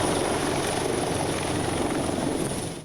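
A helicopter in flight over the South China Sea gives a loud, continuous rotor and engine roar with steady broadband wash and a high whine, close and unbroken before trailing off at the end.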